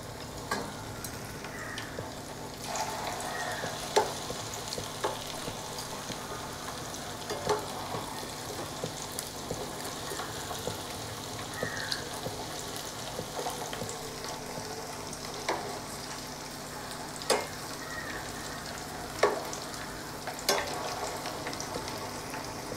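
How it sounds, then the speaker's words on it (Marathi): Maggi noodle pakoras fry in oil over a low flame, sizzling and crackling steadily, with occasional sharp pops and spoon clinks throughout. "आणि लो फ्लेमवरच आपल्याला तळून घ्यायचं आहे आता हे."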